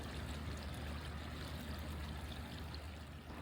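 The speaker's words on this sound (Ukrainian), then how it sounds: "А так виглядає місце впадання Кирилівського струмка" The Kyrylivskyi stream pouring out of a collector pipe into the Pochaina river in Kyiv, a steady broadband rush of flowing water, continuous and fairly faint, heard alone without voices.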